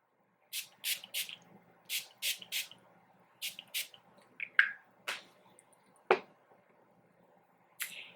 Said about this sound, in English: I'm just going to be setting my makeup with the Urban Decay All Nighter Setting Spray.